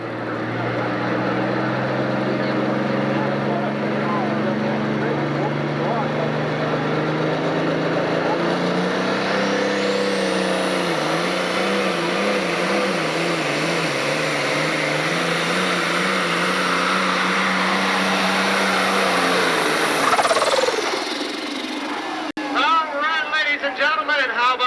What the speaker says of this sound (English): Turbocharger boost right there at the end of the run.